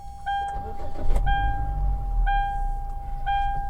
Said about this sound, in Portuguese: Magentes ligado em funcionamento